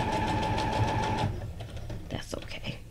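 Sewing machine stitching through a paper tag for a junk journal, a steady close whirring run for just over a second before it stops, followed by quieter handling noise.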